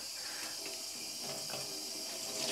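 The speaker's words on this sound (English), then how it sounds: "So I'm just going to run this under some cold water." Cold tap water runs steadily over a skein of hand-dyed yarn in a sink, a soft, continuous splashing stream heard close and fairly quiet, with no talking.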